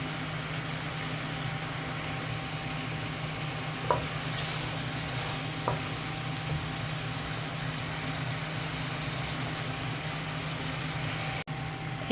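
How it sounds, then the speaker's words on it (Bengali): Malabar spinach sautés in a pan, a steady, even sizzle running the whole time at moderate level, broken by a couple of faint clinks and a soft knock near the end, with no talking. "এখানে আমি পুঁই শাকটা দিয়ে দিলাম, আমি হালকা করে কষিয়ে নেব"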